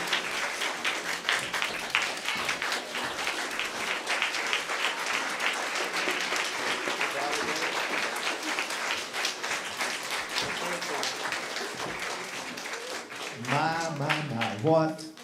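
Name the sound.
audience applause and standing ovation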